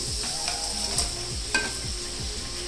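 Fried potatoes tipped into a pan of sizzling chilli sauce for restaurant-style chilli potatoes, a steady close hiss of frying with rhythmic spatula scrapes and stirring, no talk.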